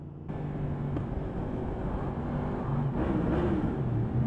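Yamaha MT-10 motorcycle with a crossplane engine running steadily, a low rumbling drone with a slight rise near the end, heard under wind noise with no talk.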